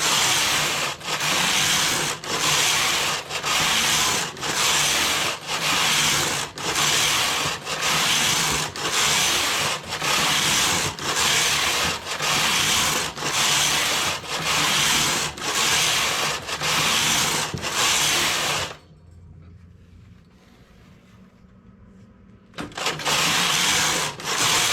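A knitting machine runs a carriage back and forth while knitting a hood collar in multi-strand industrial yarn, giving a regular rhythm of loud rasping sweeps. The sweeps stop for a few seconds of near silence, then resume.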